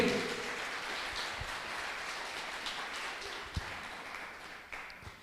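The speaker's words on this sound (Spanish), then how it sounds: "Si ese aplauso es para el Señor, denlo bien fuerte." Steady crowd applause at a church service fills the whole stretch, a dense wash of many hands clapping at an even level with a few sharper claps standing out.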